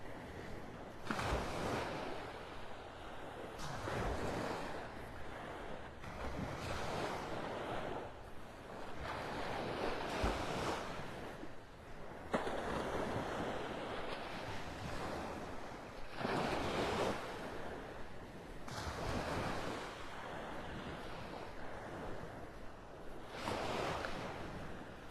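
Surf rolls in on Vanderbilt Beach in North Naples, Florida, waves breaking in repeated slow swells every few seconds with wind rushing across the microphone, fairly faint and with no voices.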